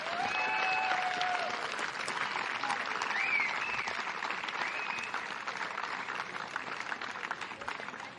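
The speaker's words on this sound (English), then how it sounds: "give them a massive round of applause" A crowd applauds the New South Wales women's flag football silver medalists at the 2024 national championship, sustained clapping spread across a large space with a few whistles cutting through early on, slowly thinning toward the end.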